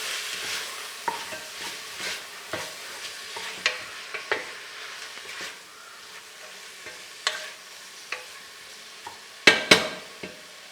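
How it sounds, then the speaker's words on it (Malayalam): Ginger garlic paste and green chili being stirred while frying in a pan for beef nihari, a steady sizzle broken by repeated sharp scrapes and clinks of the spoon against the pan, close and fairly quiet. "ജിഞ്ചർ ഗാർലിക് പേസ്റ്റും പച്ചമുളകും കൂടി ചേർത്ത മിശ്രിതം ആദ്യത്തെ ചേർത്തൊന്ന് ഇളക്കി കൊടുക്കണം"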